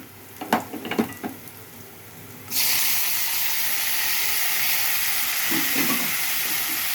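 Tomato pieces hit a hot pan of onion and turmeric with a sudden loud sizzle that holds steady and close, after a few clinks of stirring at the start; no voice is heard.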